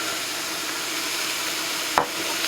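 Ground beef frying over medium-high heat in a cast iron Dutch oven, a steady loud sizzle with a single scrape as a utensil breaks up the meat.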